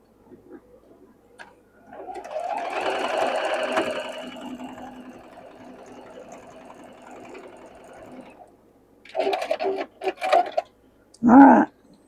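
Sewing machine stitching fabric pieces together, one burst of rapid clattering needle strokes that slows and stops, followed by a few short mechanical clicks and knocks nearby.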